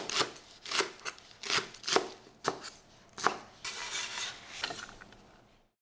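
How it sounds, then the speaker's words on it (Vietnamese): A kitchen knife chops scallions and minces the scallion heads on a cutting board, a run of sharp close taps in uneven bursts, then a denser quicker flurry of chopping before it stops. "Hành lá mình cắt nhỏ ra, phần đầu hành thì mình băm nhuyễn."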